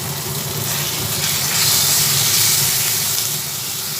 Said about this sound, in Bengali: টমেটোটাও একসঙ্গে দিয়ে ভেজে নিচ্ছি পেঁয়াজ রসুন টমেটো একসঙ্গে কিছুক্ষণ ভাজার পরে মধ্যে হাফ চামচ আদা বাটা দিয়ে দিলাম